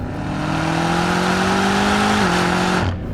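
A 2022 BMW M5 CS with a 627-horsepower 4.4-liter twin-turbo V8 pulls hard under full throttle, a loud continuous engine roar climbing steadily in pitch, briefly dipping at a gear change, then falling away abruptly near the end.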